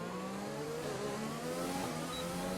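A Mercedes Formula 1 car engine in the F1 2020 video game, racing against AI opponents, whines steadily and loudly up close, its pitch climbing and shifting through gears with no voices over it.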